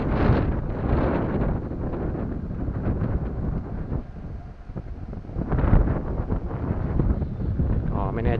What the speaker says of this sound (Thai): ข้างบนนี้ลมแรงเลย คือเป็นจุดที่ลมเย็นลมแรงนะครับ